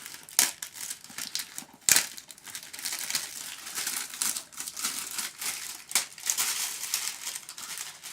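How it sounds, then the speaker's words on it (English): Plastic shrink wrap being peeled and crinkled off a DVD case of The Adjustment Bureau, a continuous close crackle with sharp tearing bursts and no talk. "so let's unwrap this now"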